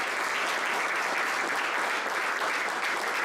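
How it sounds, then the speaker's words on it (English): Sustained applause from a conference audience at the OpenSIPS Summit in Bucharest, a dense, steady wash of clapping hands at even loudness throughout, with no break. "I want everyone to put their hands together for the OpenSIPS team and Bogdan for making this possible."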